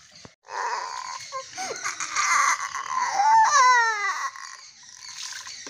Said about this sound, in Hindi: क्यों रो रहे हो?